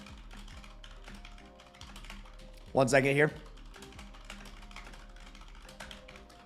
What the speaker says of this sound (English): I'm dialed on my typing